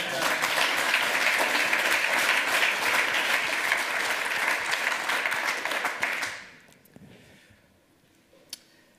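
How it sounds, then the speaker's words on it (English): Dense, steady audience applause at a lightning talks session of a hacker conference, holding strong for about six seconds before quickly dying away to a few stray claps. "how about a round of applause both for that and for having to follow that?"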